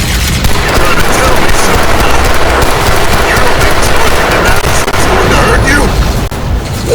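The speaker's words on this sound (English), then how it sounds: "I'm using the pistol." Pistol gunfire in the video game Crysis 3 lands in dense, loud bursts with booms and heavy battle noise running the whole time, and a voice talks under the shooting.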